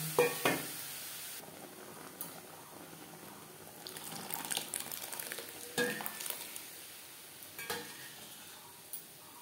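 Tomatoes fry in a pan while a spatula stirs them, giving a soft continuous sizzle broken by irregular scraping strokes, close up with no voices.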